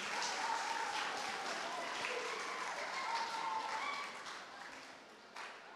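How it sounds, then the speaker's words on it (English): Applause from a church congregation welcoming a speaker to a health and wellness session, steady clapping that fades toward the end, with some voices mixed in underneath. "Give a round of applause for him."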